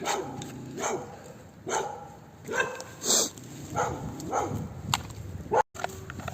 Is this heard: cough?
no